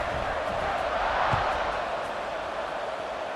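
A football stadium crowd cheers after a scoring drive, a broad, steady roar of many voices filling the space without breaks.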